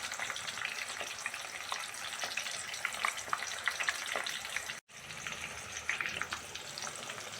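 Fenugreek seeds and curry leaves fry in hot oil for homemade hair oil, giving off a steady close sizzle with small crackles and pops. The sizzle cuts out for a moment and then carries on.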